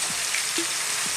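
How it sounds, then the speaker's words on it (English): Sliced onions with garlic ginger paste fry in a pan for a chicken curry, giving a continuous bright sizzle with a few soft crackles and pops, close and steady, no voices. "At this point, I'm going to drop in some onions."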